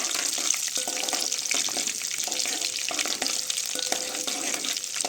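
Okra and egg curry frying in a pan, a steady broadband hiss with crackle and occasional clinks of stirring, close and continuous throughout.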